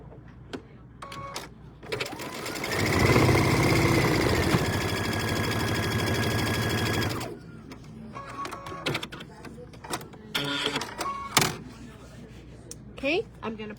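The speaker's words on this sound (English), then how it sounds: "I'm going to take my third block that was over here, that's the other part of the star," A sewing machine stitches quilt blocks together for a star pattern on a winter table runner. It runs in one steady, close, mechanical whir for about five seconds, then stops, and someone talks quietly before and after it.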